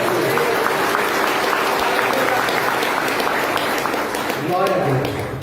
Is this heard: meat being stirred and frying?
no